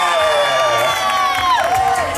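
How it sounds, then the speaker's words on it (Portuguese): A crowd cheers and whoops for a friend, loud and close. Children shout and voices rise and fall continuously, with some applause blended underneath. "Em primeiro lugar, uma salva de palmas pro amigo"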